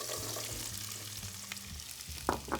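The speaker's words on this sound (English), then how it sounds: "Once your oil is nice and hot, we're gonna add onion" Chopped onion hitting hot olive oil in a pan, a steady soft sizzle with a couple of sharper crackles near the end, no talking.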